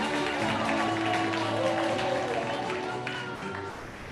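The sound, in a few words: applause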